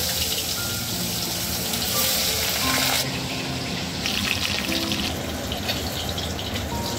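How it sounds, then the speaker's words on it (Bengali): Koi fish dropped into hot oil in a wok fry with a steady, dense hiss and crackle close up, the sizzle shifting slightly in intensity partway through. "ভালো তেলটা গরম হয়ে গেছে, এখন কই মাছগুলো দিয়ে দেওয়া হচ্ছে"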